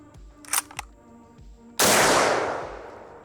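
A single loud shot from an M1903 military rifle chambered in .30-06 cracks outdoors in low light and then decays into a long echoing tail, preceded by a couple of faint mechanical clicks.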